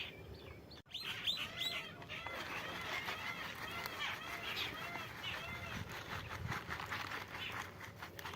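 Sparrows chirp in a dense, continuous chatter of many overlapping high tweets, near and busy throughout, with faint rustling underneath.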